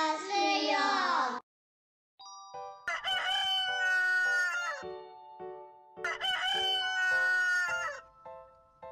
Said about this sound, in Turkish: Renkli horoz ormandaki hayvanları uyandırdı.